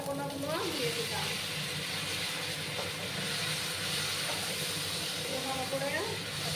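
Green bananas and potatoes frying in oil over a high gas flame, a steady hissing sizzle with a few clinks of a utensil, a voice speaking softly at times.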